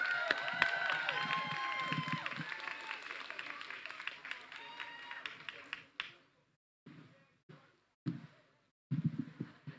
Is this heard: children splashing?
no